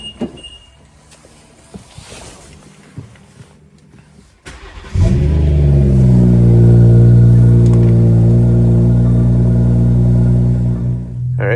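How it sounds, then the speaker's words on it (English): A 2021 BMW M240i xDrive (F22) cold-starts on a cold winter day: a few quiet clicks, then a sudden crank and a loud, steady, high idle that holds close by until the end. "But let's do a cold start."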